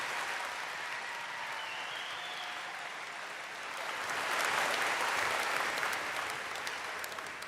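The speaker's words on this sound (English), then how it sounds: "I think we should clap one more time for our MHS Wind Band." Sustained applause from a high school commencement audience honoring the MHS Wind Band at Mora High School, a steady dense clapping wash that swells louder midway and continues without a break.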